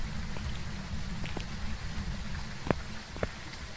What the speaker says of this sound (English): I do have heavy rain on.